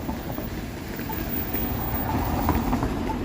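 A Toronto subway train at Dundas West Station, a dense low rumble and roar filling the station, steady and fairly loud throughout with faint metallic clatter and no speech.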